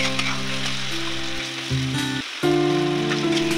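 Onion paste and tomato paste fry with spices in a pan for tengra fish kalia, producing a constant crackling sizzle under loud melodic background music.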